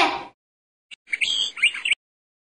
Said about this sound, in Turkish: Bu bir kuş.